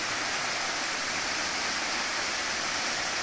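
Waterfall at Cascata Serra Velha in Igrejinha, Rio Grande do Sul, pouring into a rock pool at what looks like a former quarry: a steady, dense roar of falling water, close and unbroken, with no voices.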